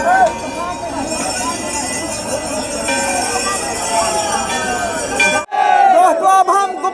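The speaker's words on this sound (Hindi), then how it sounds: "यहाँ पर लोग जयकारे लगा रहे हैं" Dense crowd of pilgrims at Gupta Dham cave shrine on Mahashivratri, chanting and shouting slogans together in a loud, sustained roar, cutting off sharply before a few voices continue closer.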